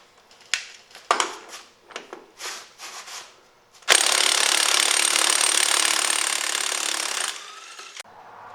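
A DeWalt 20V 1/2-inch impact wrench removes a bolt. A few scattered clicks and handling knocks come first, then a loud, close, sustained hammering rattle lasts about three and a half seconds before cutting off.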